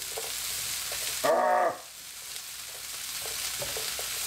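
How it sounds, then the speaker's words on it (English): Garlic and chilies fry in a pan with a steady soft sizzle, broken briefly by a louder scraping stir and a squeaky clatter of the pan before the hiss settles again. "Now get your garlic in and your chilies. Get them 30 seconds."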